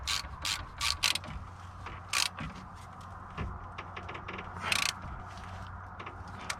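Front CV axle nut being spun back on and tightened on a 1997–2003 Ford Expedition or F-150: a run of close, bright ratcheting clicks in short bursts with metallic mechanism noise in between, no talk.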